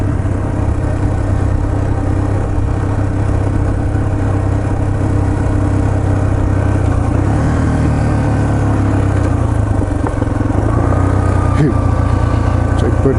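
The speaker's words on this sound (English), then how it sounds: "Engine brake." Yamaha TT-R230 dirt bike engine braking on a windy overlook trail at Windrock Park, a steady loud low engine drone with wind rumble throughout, the pitch shifting slightly as the bike decelerates.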